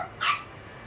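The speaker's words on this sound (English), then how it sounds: "That's the guard dogs." A guard dog gives a single short, high yip or bark, sharp and fairly close, over a faint quiet background.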